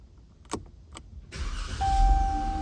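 A Dodge Charger starts by push-button: a few faint clicks, then the engine cranks and catches into a loud, steady idle close by, with a thin whine rising over the rumble.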